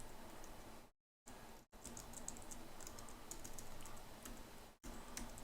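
Quick typing on a computer keyboard, entering repeated numbers, with rapid clicking keystrokes close by, broken by two short silent gaps.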